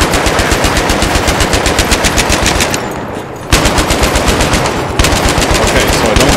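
Mounted machine gun firing in Battlefield 3, rapid sustained automatic bursts with a loud steady rhythm, briefly pausing twice before resuming.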